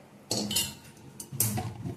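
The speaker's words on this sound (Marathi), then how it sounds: "आता बघा चांगली चमच्याने अशी घोटून घ्यायची डाळ" A spoon mashes cooked black urad dal in a pot, giving a few close metallic clinks and scrapes in two short bursts, with no talking.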